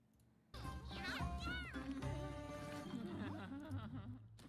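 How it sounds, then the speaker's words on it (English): A cat gives a tired, drawn-out meow with wavering pitch in a cooking animation, rising suddenly from quiet into several seconds of mewing over soft background music. "What is that cat tired sound?"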